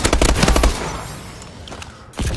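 Rapid automatic fire from an AMR-9 in Call of Duty Advanced Warfare multiplayer, a loud close burst of cracking shots, a pause with fading echo, then another short burst starting.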